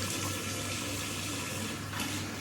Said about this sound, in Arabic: انا غسل وجهي دابا.